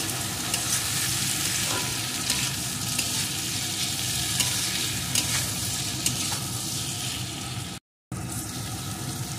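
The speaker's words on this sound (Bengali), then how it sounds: "এখন এর ভিতরে ভাজা পটলগুলোকেও দিয়ে দেব" Pointed gourd and potatoes frying and being stirred in a pan, a dense continuous sizzle close up with scraping strokes throughout and a brief dropout near the end.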